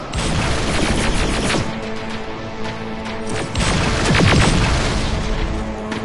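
Sustained gunfire in Terminator: Resistance, with dense bursts and heavy booms rolling continuously through a loud firefight, weapons firing in rapid overlapping volleys.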